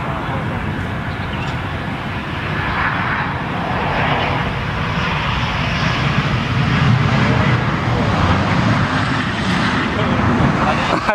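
Fixed-wing airplane engine droning steadily overhead at a shooting practice range, a continuous broad rumble under a noisy outdoor background with faint voices.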